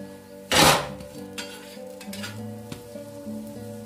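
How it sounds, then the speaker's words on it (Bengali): Boiled potatoes hit hot oil with turmeric and salt, giving a loud burst of sizzling that settles into a steady, softer frying hiss with occasional light clinks of a pan, no voices. "গ্রেভি রান্না করার জন্য এখানে আলুটা সেদ্ধ করে মা তেলের মধ্যে একটু হলুদ আর নুন দিয়ে ভেজে নিচ্ছে"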